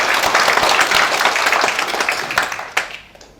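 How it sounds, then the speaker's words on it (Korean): An audience at a Busan gathering claps in a dense burst of applause that gradually thins and fades out over a few seconds. "큰 박수 부탁드리겠습니다."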